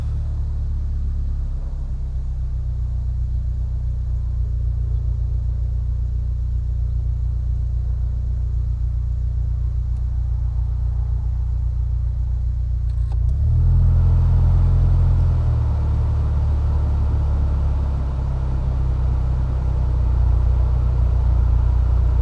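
A car engine idles steadily after its throttle body was cleaned, a low continuous rumble that steps up partway through as the idle rises and holds at the higher, slightly louder level.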